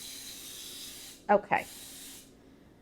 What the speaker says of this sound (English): This baking spray has flour in it.